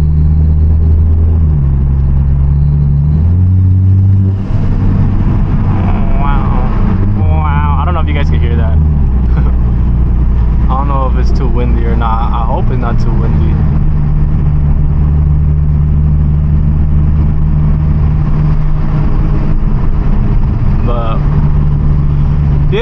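A Toyota Supra engine running loud and close with an uneven idle and some rises in revs, while people talk over it throughout.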